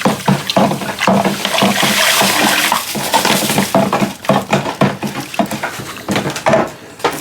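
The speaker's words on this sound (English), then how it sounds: "We'll get that all mixed in here. We get all good stirred up," Table sugar is stirred into warm water for a whiskey mash starter, giving a loud, close sloshing and swirling. Repeated scraping knocks against the container come in an uneven rhythm.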